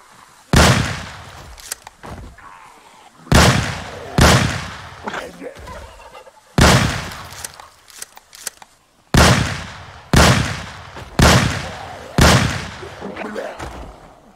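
Gunfire from a gun in the Project Zomboid zombie survival game: five loud, close single shots spaced a few seconds apart, each with a sharp attack and a short decaying tail, with faint speech between them.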